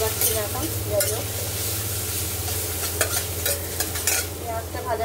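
Onion frying in a pan for a home-cooked fish dish, a steady close sizzle with occasional scraping stirs and clinks over a low constant hum.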